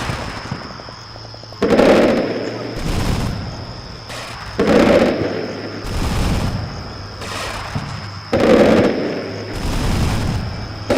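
Gunfire and explosive bursts in the combat game Combat Mission Shock Force, German Gebirgsjäger against Syrian Special Forces: three loud booming volleys at steady intervals, each trailing into rumbling crackle over a constant background hum.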